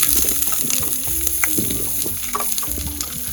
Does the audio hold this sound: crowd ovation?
no